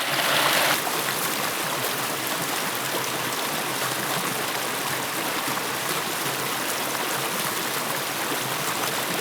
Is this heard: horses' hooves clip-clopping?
no